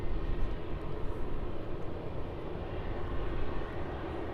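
A jet airliner powers up and rolls down runway 34 at Melbourne Airport for a morning departure to Sydney, a steady, loud, broadband engine roar that holds evenly throughout, with no talk.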